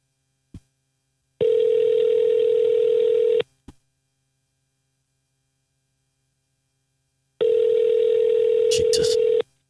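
Phone call ringing out on the line, two long steady electronic ring tones with a silent gap between them, loud and close, preceded by a couple of short clicks.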